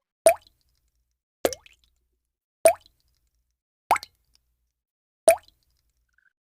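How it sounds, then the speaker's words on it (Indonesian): Water drips in a bathroom, five single plops spaced evenly about a second and a quarter apart, each clear and close against near silence. "suara tetesan air di kamar mandi sebelah kamar saya itu sangat"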